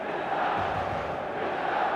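A large stadium crowd at the San Siro in the eFootball video game, a steady roar of massed voices with a chanting buzz that stays even throughout, filling the space with no single voice standing out.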